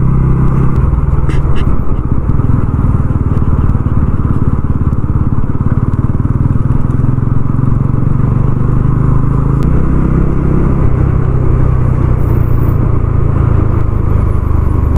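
A TVS Ronin 225 motorcycle rides a mountain road on the way to Chopta in Uttarakhand, its engine a loud, steady, close drone mixed with rushing wind that never lets up.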